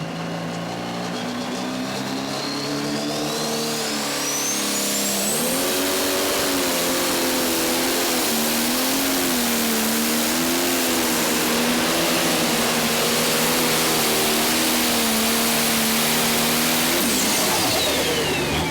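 A pro stock pulling tractor roars loud and close at the 2019 NTPA Grand Nationals tractor pull in Hutchinson, Minnesota. The engine drone climbs in pitch as it revs and holds a sustained, wavering howl for most of the run before tailing off near the end.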